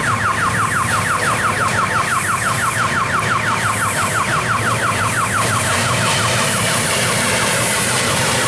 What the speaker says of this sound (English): the noise from the level crossing alarm is annoying